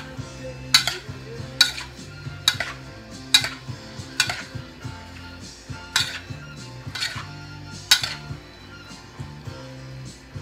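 A Greek watermelon salad with olive oil is tossed in a bowl, with a regular series of sharp clinks and knocks from utensils against the dish over a low background hum; no speech.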